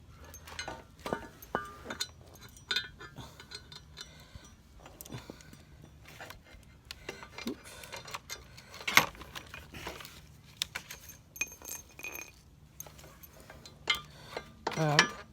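Small metal clinks and light jangling as a washer and hardware are fitted while mounting an SW Motech centre stand on a Honda CB500X, giving scattered, irregular taps close by with quiet pauses between them.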